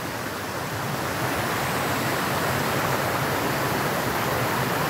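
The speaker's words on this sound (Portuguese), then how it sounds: "E a água aqui, sai na pressão, é água cristalina" Clear, pressurized stream water gushing at Córrego Lajedo in Barra do Garças, Mato Grosso: a loud, steady, close-up rush of splashing water that fills the whole clip without pause.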